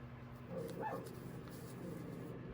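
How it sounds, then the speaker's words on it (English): A puppy whimpers and gives a few faint, brief yips somewhere off in a room, under a steady indoor background hum. "I can hear one of my puppies is upset about something."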